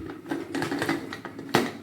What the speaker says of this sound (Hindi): अब मैं इसको, कुकर को बंद कर रही हूँ